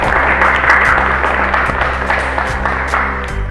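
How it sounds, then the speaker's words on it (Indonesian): A classroom applauds the first student group after its presentation in an Islamic religious education lesson, with scattered, uneven claps over a steady low hum for a few seconds. "Kita berikan aplaus untuk kelompok yang pertama"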